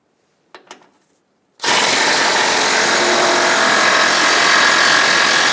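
A power tool spins off 13mm bolts from a 2015-2020 Ford F-150 engine splash shield, a loud, continuous whirring buzz that kicks in suddenly after a couple of faint clicks and holds steady.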